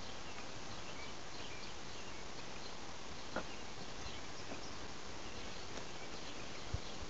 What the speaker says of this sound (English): They're making a lot of noise because they're keeping the hive a little bit warmer.